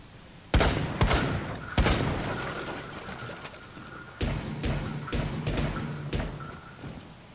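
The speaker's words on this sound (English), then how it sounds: "you can see you're shooting a fucking big ass deagle" Desert Eagle pistol shots in the video game Rainbow Six Siege: loud, punchy single reports spaced irregularly, some close together, with a lighter ringing tail between them.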